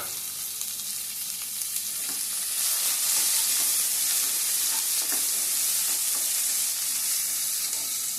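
Onions and lentils sizzle in hot oil for a tempering, a steady close frying crackle that swells louder about a third of the way through and holds, with no talk.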